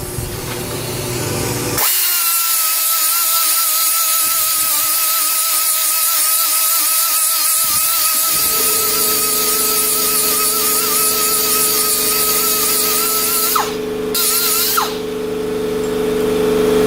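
A power tool fitted with a flap disc grinds steadily and loudly during a GM 12-bolt rear axle re-gear and rebuild, a sustained whining tone that shifts in pitch partway through and dips briefly near the end.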